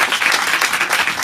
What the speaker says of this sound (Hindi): बहुत कम तालियां